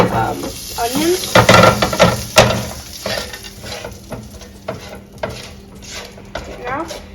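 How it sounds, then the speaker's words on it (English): Whole cinnamon, cardamom, bay leaf and cloves stirred in a hot pan for butter chicken, a light sizzle broken by clattering scrapes and knocks of a utensil against the pan, with a voice speaking briefly. "add your cinnamon, cardamom, bay leaf, and cloves, and stir that up for about 10 seconds"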